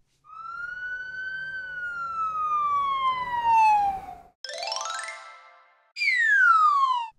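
White police cars sound a siren: a long, loud wail sliding slowly downward, a short warbling burst, then another falling wail, all close and with no talking.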